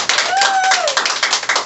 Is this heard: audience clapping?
yes